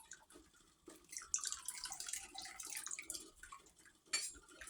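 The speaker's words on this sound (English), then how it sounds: "I'm just gonna add to 1 gallon of milk. I'm gonna add 1/4 of a cup of apple cider vinegar on my spoon here." A quarter cup of apple cider vinegar poured from a spoon into a gallon of milk on the stove, soft splashing and dripping with light clinks of metal against the pot, close and quiet.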